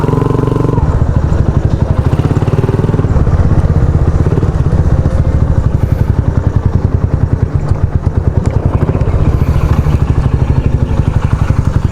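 A big bike idling nearby, its deep, loud engine throbbing in a steady, rapid pulse for the full stretch, with faint voices underneath.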